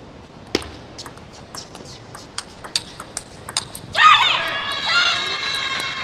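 A loud shout from a table tennis player in a team championship quarterfinal bursts out near the end after a run of sharp ball taps and footsteps, and it holds for about two seconds.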